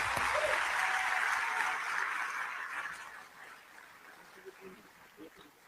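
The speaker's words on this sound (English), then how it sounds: "Merci, sous vos applaudissements, s'il vous plaît." Audience applause in a conference hall at a UN water conference, a steady wash of clapping that fades out over several seconds.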